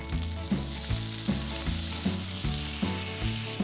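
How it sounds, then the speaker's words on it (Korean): Frankfurter sausage and shrimp stir-frying in butter for fajitas, a close, steady sizzle with rhythmic stirring strokes roughly every half second, and no voices. "그 다음 버터를 올려 뽀로로 프랑크와 새우를 같이 볶아주세요."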